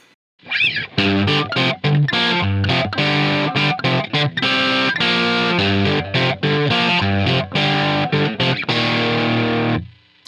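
A heavily distorted electric guitar through a Line 6 Helix with split crossover plays a chugging, choppy riff, loud and full, with rapid palm-muted stops and starts, then cuts off.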